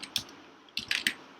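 A few isolated keystrokes click on a computer keyboard, soft and close, with short gaps between them in a quiet room.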